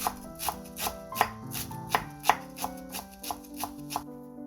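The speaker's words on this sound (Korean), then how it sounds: "이렇게 말아서 썰어주시면 잘리지 않는 부분 없이 잘 썰어질 거예요." A knife slices thinly through rolled-up perilla leaves on a cutting board, a steady series of about a dozen crisp, evenly spaced chops, close and clear with no voices.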